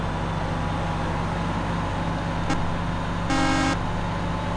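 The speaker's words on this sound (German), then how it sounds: "Hupe haben wir auch." In the Bus Driver video game, a bus horn sounds once as a short blip and then as a longer honk of about half a second, loud over a constant engine and road drone.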